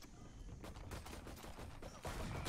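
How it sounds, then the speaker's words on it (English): Gunfire in a Valorant match, dense bursts of rapid shots crackling continuously and loud, swelling near the end, with no voices over it. "And the bullets are flying here"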